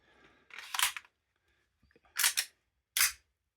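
An SRC SP USP9 gas blowback airsoft pistol fires and its slide cycles and locks back, giving three sharp, close mechanical cracks with short snaps between them, each followed by a quick clack of the slide.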